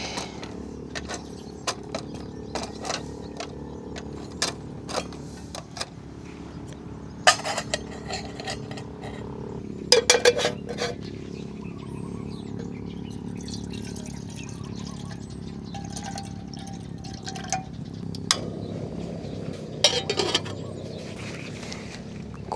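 At a seaside solo campsite, a pot and cutlery are handled while water heats for coffee, with sparse metallic clinks and a few louder rattles over a quiet background.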